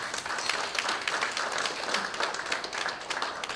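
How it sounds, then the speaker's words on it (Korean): Quiet, steady audience applause at a philosophy lecture, many hands clapping evenly for a few seconds, somewhat distant, with no talking over it. "자, 박수 한번 주십시오."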